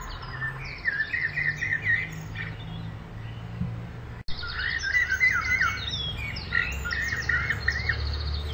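Migratory birds calling at Vedanthangal bird sanctuary near Chennai: a dense, continuous chorus of chirps and twittering calls, fairly close and lively, briefly cut off midway before resuming.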